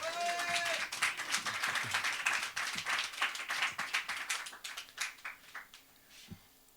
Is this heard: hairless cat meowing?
no